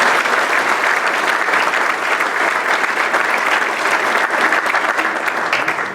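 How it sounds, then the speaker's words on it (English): Loud, sustained applause from a ceremony audience at a 2016 hall of fame induction, a dense continuous wash of many hands clapping steadily for the full stretch with no voices over it. "So, I think you guys owe him a round of applause."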